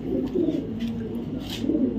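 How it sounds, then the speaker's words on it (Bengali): Black checker racing pigeons coo close by, with low, throaty rolling calls repeating steadily over a soft background murmur. "যারা আমার কাছ থেকে টপ কোয়ালিটির ব্ল্যাক চেকার কবুতর খুঁজতেছেন"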